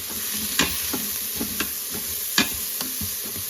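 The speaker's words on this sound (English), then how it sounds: "Stir them up, get all the oil coated on there." Onions sautéing in oil in an electric pressure cooker on its sauté setting, stirred with a few sharp scrapes and clicks of the utensil over a steady, close sizzle.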